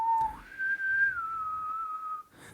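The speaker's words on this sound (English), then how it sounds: "That's like some good whistling there." A person whistles a single clear, sustained melodic line that starts low, rises and then slowly drifts down, loud and close with no talking over it.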